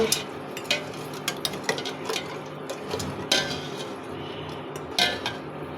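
A spoon stirs payesh, a Bengali rice pudding, in a metal pot after salt goes in, with repeated clinking scrapes against the pot at an uneven rhythm, close and clear with no talk.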